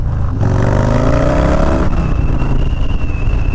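A motorcycle pulls away and accelerates hard, engine note rising through the revs, then a gear change and steady loud running with wind rush, recorded up close from the bike.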